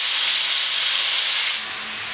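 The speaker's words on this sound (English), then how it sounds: "You want to hear that sizzle." Loud, steady sizzling of meat frying in lard in a skillet over medium-high heat, a constant bright hiss that eases slightly in the last moments.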